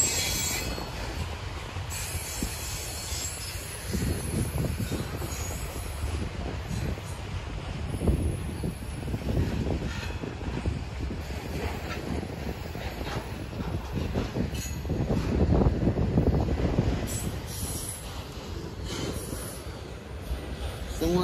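A Norfolk Southern NS 316 freight train rolls past at CP Draw in Buffalo, New York, with a steady rumble of railcars, recurring wheel squeal, and rising surges as cars pass close by; a voice speaks briefly over it.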